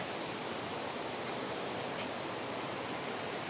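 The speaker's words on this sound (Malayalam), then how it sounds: "ആ തോട് ഇങ്ങനെ ഒഴുകി വന്നിട്ട് കണ്ടോ വലിയൊരു തോട്ടിലേക്ക് വന്നിങ്ങനെ സംഗമിക്കുന്ന ഒരു സ്ഥലമാണിത്" A flowing stream where it joins a larger stream, a steady, even rush of water heard close and alone with no voices.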